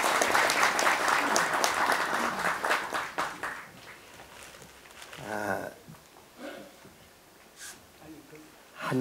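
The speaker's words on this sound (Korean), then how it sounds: "여러분 박수로 환영해 주시면 고맙겠습니다" Applause at an awards and scholarship ceremony, dense clapping for the first few seconds that thins out and fades, followed by quieter room sounds and brief voices.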